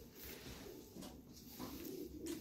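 Racing pigeons coo softly in a loft, with faint low murmuring calls against quiet background noise.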